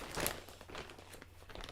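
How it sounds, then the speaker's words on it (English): Crinkling of plastic packaging as a skein of knitting yarn for socks is unwrapped, with a few short, faint, close crackles and rustles. "I'm just going to take it out of the packaging for now because otherwise there'll be lots of crinkling"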